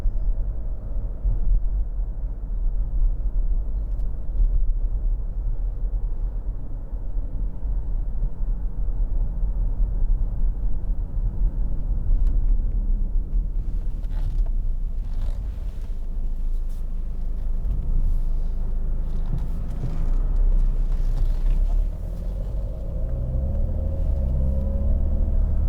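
A 2012 Jaguar XF 2.2 TD diesel saloon on the move, heard from inside as a steady low engine and road rumble, with slight swells as it picks up speed and no one talking.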